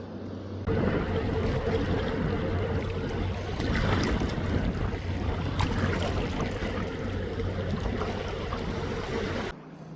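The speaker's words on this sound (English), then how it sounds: "There's a ferry going by." A ferry's engine rumbles steadily amid wind and water noise, a continuous passing drone lasting several seconds, heard from a kayak near South Brother Island, New York City.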